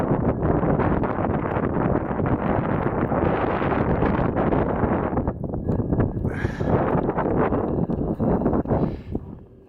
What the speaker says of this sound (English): It's the wind that's making things really cold.